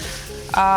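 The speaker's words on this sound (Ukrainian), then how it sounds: "Тепер ще раз зі спеціями перемішуємо, поєднуємо все" Rice noodles with spices sizzle and fry in a hot pan, with a brief scraping stir before a louder burst of sizzling near the end.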